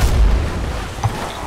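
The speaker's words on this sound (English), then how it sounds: "Grenade." Grenade blast in a video game, a single low boom that stays loud and dense through the short clip, with a brief pop near the end and no talk over it.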